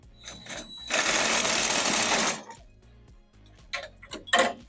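Sawzall reciprocating saw cutting through copper refrigerant pipe at its base: a loud, close, buzzing rasp lasting about a second and a half, followed by quieter scraping and clinking bursts of metal.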